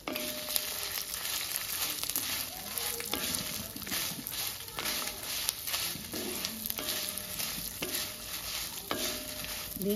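Mustard and split black gram sizzling and popping in hot oil in a pan, with dried red chillies and coriander seeds going in for a flaxseed spice powder; steady close frying hiss with soft stirring scrapes and crackles throughout.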